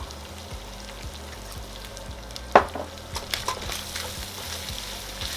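Pork stir-frying with hoisin and soy sauce in a pan, a steady low sizzle with scattered scraping stir strokes and one sharp clatter near the middle.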